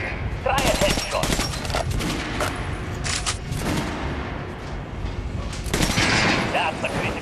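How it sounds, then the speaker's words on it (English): Gunfire in Metro Last Light aimed at an armored training dummy, with loud rapid bursts of shots at the start and again near the end and some talk. "Now shoot the armored dummy."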